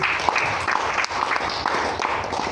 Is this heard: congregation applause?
yes